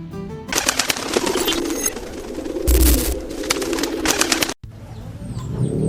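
Pigeons cooing at an outdoor loft of eagle pigeons on a sunny day, heard as a steady close bird presence mixed with broadband rustle and a brief louder burst midway, with no talking.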